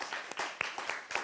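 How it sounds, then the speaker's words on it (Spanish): Studio audience applause for a guest on a Spanish-language interview show, a short burst of scattered claps close by, brief and moderately loud. "por favor, un aplauso."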